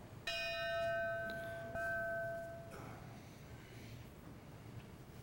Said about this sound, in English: The history of firefighting is closely associated with the ringing of the bell.